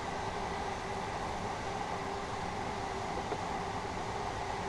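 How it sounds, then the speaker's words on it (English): A Class 377 Gatwick Express train in Train Sim World 5 runs through a station with a steady, even rumble and rail hiss that stays at one level throughout, with no speech. "I'll show you that as we just come through the station here"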